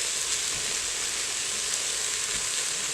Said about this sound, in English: When you saute tomato paste with your aromatic vegetables, it really does deepen the flavor of it.